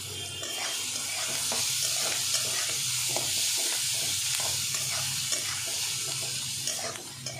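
Vegetables fry in hot oil with a steady, dense sizzle and occasional stirring scrapes, close and constant throughout with no voices.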